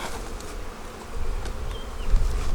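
Honeybees hum around a hive in a neglected bee yard on a farm, a steady close buzzing swarm with individual bees droning past, no voices.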